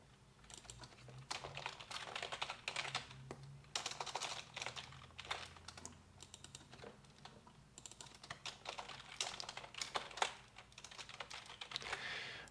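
Code being typed on a computer keyboard, quiet rapid key clicks in uneven bursts with short pauses between them, close by and without speech.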